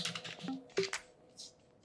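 Short burst of typing on a computer keyboard, a handful of light key clicks in quick succession, close and quiet.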